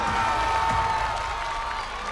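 A crowd of Miami Heat fans out on Biscayne Boulevard cheers and applauds in a dense, roaring wash of voices and clapping, steady and loud for the whole moment.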